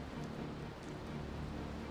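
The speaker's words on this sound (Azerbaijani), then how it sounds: "Yağış da yağır." Rain falls in a steady, even hiss, faint and continuous throughout with no voices over it.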